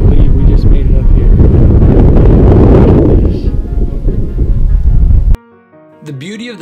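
Strong mountain wind roars and buffets the microphone for about five seconds, loud and rumbling, before cutting off abruptly to a quieter passage with soft tonal sounds.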